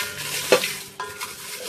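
Dried red chillies dry-roasting in a pan over a medium flame for Andhra masala chilli powder, with a couple of short scraping stirs and a soft, steady roast in the background.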